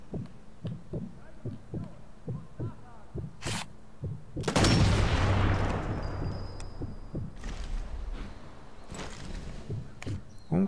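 Gunshots in the video game Sniper Elite 4: a loud sharp report near 3.5 seconds, then a heavier blast with a long decaying rumble near 4.5 seconds, over steady rhythmic thumping game sounds.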